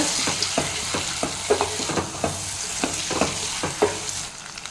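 Potato and pea gravy sautéing in a pan, with a steady sizzle and regular scraping strokes of a spatula stirring through the mixture at a brisk rhythm, close and clear with no talking.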